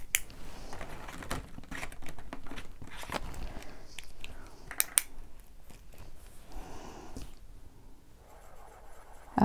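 Zebra Click Art marker pen writing on paper, a soft scratchy felt-tip scrawl of irregular strokes and taps running throughout, fairly close and quiet with no talk.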